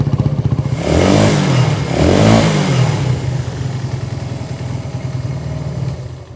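A small 125cc motorbike engine runs close by with a steady idle and two rising revs early on before settling back, loud and alone with no voices.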